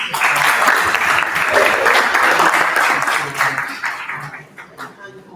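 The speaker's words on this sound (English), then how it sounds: "And a round of applause to Cecily." Audience applause at the Ghana Pavilion event breaks out loudly with dense clapping and a few chuckles, holding steady for several seconds before thinning out and fading near the end.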